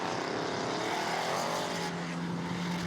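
A Lexus IS 600 drift car with a twin-turbo LQ4 V8 of 700 horsepower, driven in a drift competition qualifying run, roars loudly and continuously with a droning, wavering engine note over crowd and track noise.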